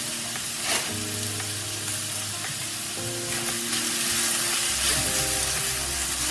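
Noodles stir-frying in a pan, enough for two people, give a steady loud sizzle and crackle with occasional scraping stirs, close up and with no voices over it.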